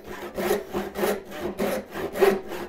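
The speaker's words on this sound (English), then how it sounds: "I'm going to slowly raise my hand to cut across" A hand saw cuts a kerf line across wood for a mitered bridle joint, making five even back-and-forth rasping strokes about half a second apart, close and clear with nothing else heard.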